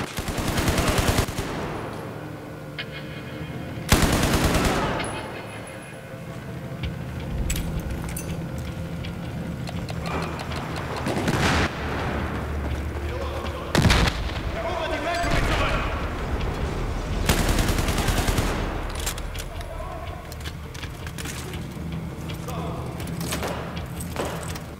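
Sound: machine gun fire in video game Battlefield 4

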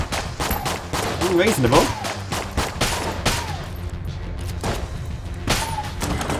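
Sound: Unfinished Gun firing in video game Enter the Gungeon

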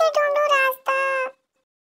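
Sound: baby goat bleating

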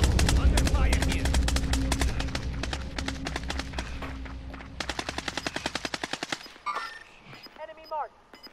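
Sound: gunfire in a video game

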